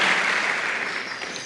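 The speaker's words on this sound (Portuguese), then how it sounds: "Bata palmas para Jesus" A congregation in a church service claps for Jesus, a brief burst of dense applause that stays steady and then eases slightly, with no clear speech over it.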